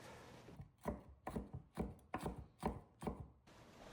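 Fresh parsley chopped with a knife on a cutting board, seven or eight distinct, evenly paced thuds with a crisp leafy edge, close and clear with no talk.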